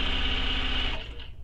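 A domestic sewing machine stitches seams on a fabric bag, a steady close mechanical whir with a fine rapid stitching buzz that runs continuously before easing off near the end.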